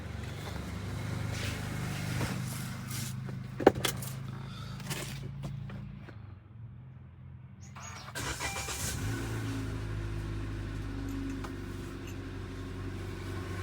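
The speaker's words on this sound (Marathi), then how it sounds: "गाडी पहिला पण चालू करू" A car engine runs with a low steady hum, drops away, then starts again and revs up into a fuller, sustained drone, close and without talk.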